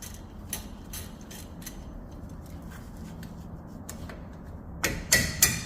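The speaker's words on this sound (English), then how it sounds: "You can use your hand hammer." Sharp metallic hand-hammer strikes on a socket, loosening 13 mm bolts during a CV axle replacement on a 2019 Ram 1500 Classic; a few scattered taps give way to a cluster of louder, closer blows near the end.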